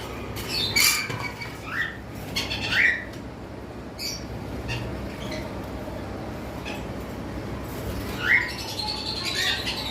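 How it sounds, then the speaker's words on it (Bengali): Several white-face cockatiels, including albino types, kept in a breeding setup, give bright scattered squawks and short chirps over a steady background hum, with the loudest calls near the start and again toward the end. "দুইটাই white face white face albino পাইটও বলে থাকে অনেকে"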